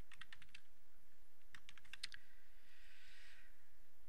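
Quick bursts of keystrokes on a computer keyboard while entering a grand total label into a Google spreadsheet, close and clear, in two short runs with a pause between and no talking.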